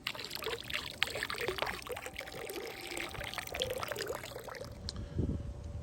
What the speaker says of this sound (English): We're just going to pour a little bit all around the edge, all the way around.